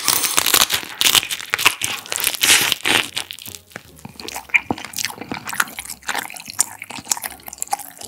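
Loud, close crunching bites and chewing of crispy grilled blue crab legs with mayonnaise, repeated crackly snaps with no talking.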